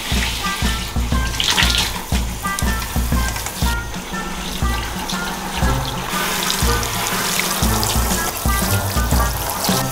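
Shower water runs steadily while a dog is washed in a van, a close, constant spray with uneven splattering and no talking.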